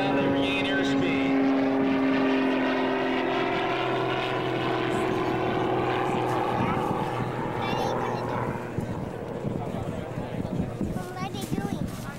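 A propeller aerobatic plane at the 2003 Kern County Airshow hangs on its prop, then pushes over into a dive. Its engine drones loud and steady, the pitch sliding lower as it goes, while an announcer talks over it.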